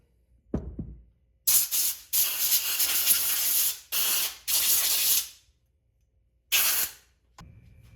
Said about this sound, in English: I'm gonna just hit them with some compressed air just to get some of the crap out of there